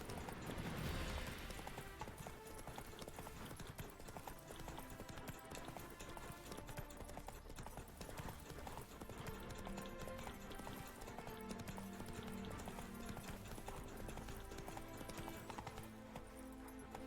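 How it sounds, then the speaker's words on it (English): Horse hooves clip-clop steadily in The Witcher 3 as a panicky horse is ridden, the rhythmic steps mixed under dense game music and ambience throughout. "el nivel de pánico de este caballo es enorme"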